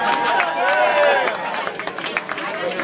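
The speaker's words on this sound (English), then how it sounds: "Round of applause here for me, this young lad" A crowd applauds and cheers for a nine-year-old boy at a St. Baldrick's head-shaving fundraiser, steady clapping with scattered sharp claps over the whole stretch, some voices mixed in.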